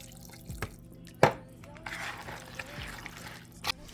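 Water dribbles and drips in short, uneven bursts close up into a casserole mixture, poured from a soup can, with a few louder splashes and clinks in a quiet kitchen.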